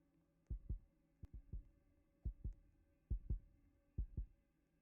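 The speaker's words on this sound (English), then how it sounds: "I heard that heartbeat." A game heartbeat from a Roblox round thumps in quiet, evenly spaced lub-dub pairs, five beats clear and close against a faint steady hum.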